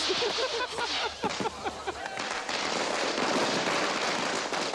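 A rapid crackling barrage of Indian firecrackers popping and banging, dense and loud, building into a continuous roar of bursts.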